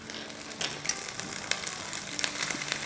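Garlic paste sizzling in a hot pan with carrots and onions over a high flame, a steady crackling fry with a few stirring scrapes, close and moderately loud.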